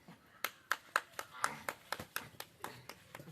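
Hands clapping in separate, slightly uneven claps, about a dozen over a few seconds, close and fairly quiet against a low background.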